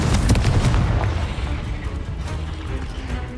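A Confringo explosive spell blast from Hogwarts Legacy, a loud booming burst at the start that rolls into a dense, rumbling crackle and fades into a steady roar of game noise.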